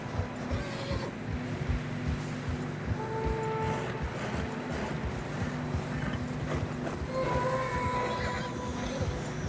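Steady muffled hoofbeats of horses plodding through fresh snow in Red Dead Redemption 2, set against a constant low rumbling background.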